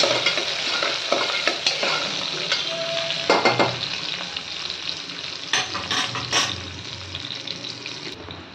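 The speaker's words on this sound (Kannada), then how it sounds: "ಅದಕ್ಕೆ ಸ್ವಲ್ಪ ಕರಿಬೇವಿನ ಸೊಪ್ಪು ಮತ್ತು ಒಂದೇ ಒಂದು ಚಿಕ್ಕ ಈರುಳ್ಳಿ ಚೂರು ಲೈಟಾಗಿ ಫ್ರೈ ಆಗಲಿ." Curry leaves and a small piece of onion fry lightly in hot oil, giving a steady close sizzle broken by scraping stirs and a few sharp clinks of a utensil against the pan.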